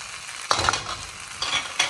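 Chili powder and curry powder are stirred in a sizzling pan. A spoon scrapes and clatters in short strokes over a steady close frying hiss.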